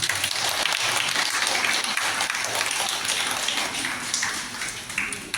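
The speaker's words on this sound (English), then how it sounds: "So let us give them a big round of applause." A school audience at a Teachers' Day program claps steadily after a student performance, a busy rattling applause with some murmur underneath, fairly close and even throughout.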